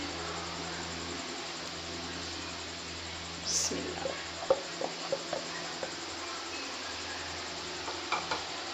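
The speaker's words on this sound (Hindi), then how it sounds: "अब मैं इस स्टेज पर इसमें भिंडियाँ शामिल करती हूँ" Okra goes into a pan of simmering masala for a Pakistani bhindi gosht dish, bringing a faint, low sizzle with a few soft clicks and stirring taps against the pan over quiet background hiss.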